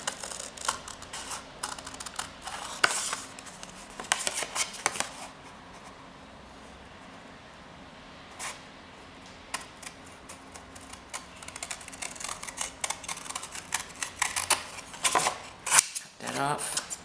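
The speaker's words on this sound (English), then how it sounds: "I'm going to cut that out. Make sure you got a good pair of scissors for that." Fabric scissors cut around a postcard for a gift box, giving irregular bursts of crisp snipping and paper rustling close by, broken by brief pauses.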